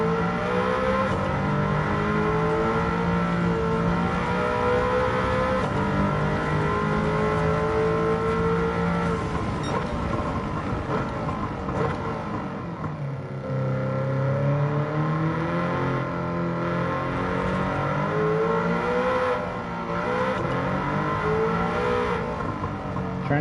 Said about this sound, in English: Trying to stay a little bit out of the throttle in the corner because I think that nose is getting picked up so much that the car just pushes.